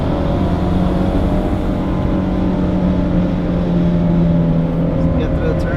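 A 2008 Mitsubishi Evo X running on E85 accelerates through a turn on a canyon road, its engine giving a loud steady drone heard from inside the car, holding one pitch, with someone talking over it.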